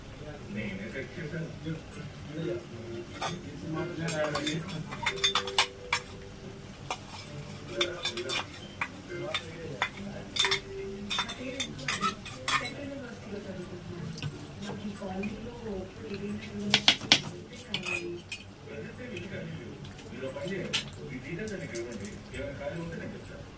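Fish curry is stirred in a pot: faint, intermittent metallic scrapes and clinks of a spoon sit beneath a person talking almost continuously.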